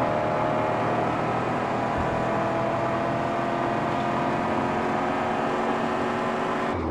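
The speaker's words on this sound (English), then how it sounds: "the beautiful sound of a V6 or V8 engine coming from your magnum goddamn opus" A V6 or V8 car engine from the Mad Max video game drones at a steady, loud, sustained rumble with layered tonal harmonics, then cuts off abruptly right at the end.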